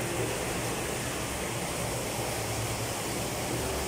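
Water rushing into a tank in a tunnel area in Unaizah, a loud, constant broadband roar that fills the enclosed space without a break.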